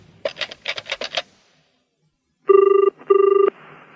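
A dialed telephone gives two bursts of bright, trilling ring, each roughly half a second long and close by, after a quick series of button-press tones and a short silence.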